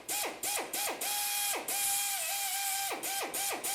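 A drill bores small pilot holes into a Jeep's body for rock slider installation, whining steadily between several short bursts that spin up and wind down in quick succession, close and loud.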